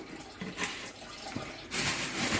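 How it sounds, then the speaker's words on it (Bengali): Tap water runs steadily over an egg being washed, with a soft broadband splashing that swells louder and fuller toward the end of the clip. "ডিমটা ধুয়ে রাখলাম"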